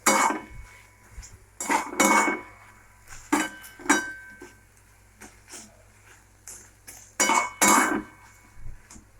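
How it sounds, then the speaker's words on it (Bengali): Taro leaves stirred in a pan over a lowered gas flame, a utensil scraping and clinking against the metal in several separate bursts with quiet pauses between, close and fairly loud, no talking. "আমাদের মাঝে মধ্যে নাড়া দিয়ে দিতে হবে"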